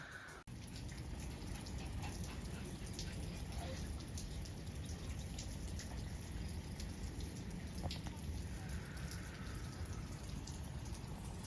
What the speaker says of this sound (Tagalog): Ayan, umuulan sa labas.